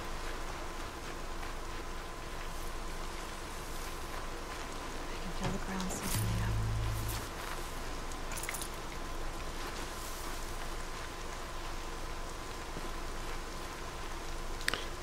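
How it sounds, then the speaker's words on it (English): Steady rain falls in Horizon Zero Dawn, a soft, constant wash of drops that runs throughout at moderate loudness beneath a low hum and brief game sounds. "The weather's really interesting, too, in this game. You know, with the fog and the rain."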